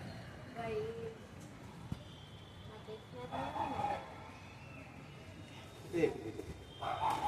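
A few faint, distant dog barks come through a low background hum, with some soft voices.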